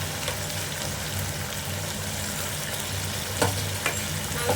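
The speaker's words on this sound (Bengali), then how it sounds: "এবার এটার মধ্যে আমি মাংসগুলো একে একে দিয়ে দেবো।" Marinated mutton pieces frying in a pan for mutton biriyani: steady, close sizzling hiss with occasional stirring clinks, no voices.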